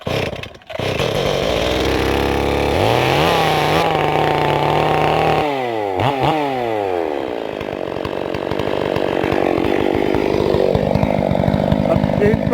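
A ported Stihl MS440 chainsaw runs loud and close, its engine revving up and down through shifting pitches before settling into a steady rough idle, with a voice briefly heard beneath it.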